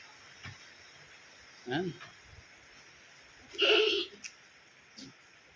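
Goats and sheep, including Javanese and Etawa goats, kept at a village farm give two short bleats a couple of seconds apart over a quiet background.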